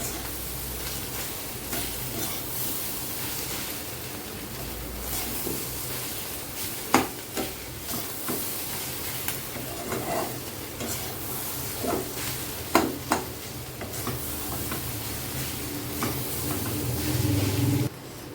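Rui fish roe chachchari frying in a pan with a steady soft sizzle, while a spatula stirs and scrapes through it in scattered clinks and knocks, close up and without talk.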